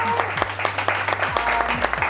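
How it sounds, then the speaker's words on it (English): Audience applause for a speaker at an evening event on global entrepreneurship, dense clapping running steadily throughout with music or a tonal hum underneath. "Let's give her a round of applause."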